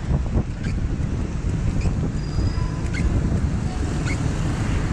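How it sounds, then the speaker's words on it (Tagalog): Strong typhoon wind gusting along a flooded service road, heavy low buffeting rumble against the microphone that surges and eases continuously, with faint scattered higher clatter in the background. "Lakas ng hangin guys."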